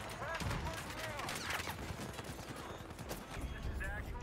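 Rapid automatic gunfire in a Battlefield 4 multiplayer match, a fairly quiet, continuous crackle of shots in bursts and distant fusillades, with faint game effects mixed in under the sustained firing.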